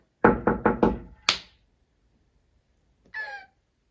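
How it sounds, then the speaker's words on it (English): Knuckles rap on a door in a quick run of four close knocks followed by a fifth, loud and near, then silence and a brief soft sound afterward. "I'm just knocking."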